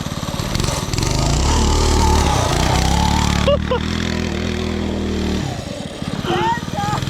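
A small buggy engine drones loudly and revs up and down, close by, with voices talking over it.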